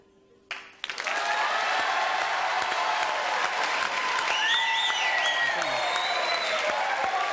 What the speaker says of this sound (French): Ah, il y a de beaux applaudissements en tout Ouais. cas.